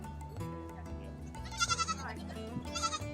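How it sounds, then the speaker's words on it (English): Two bursts of wavering goat bleats rise over a steady low background hum, the second bleat coming after a short pause. "here we are with the happy goats"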